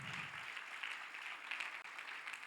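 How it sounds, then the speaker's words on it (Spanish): A church congregation applauds, a continuous wash of many hands clapping that sounds distant and fairly faint, holding steady throughout. "Aplaude a ese Dios poderoso, ese Dios de la abundancia"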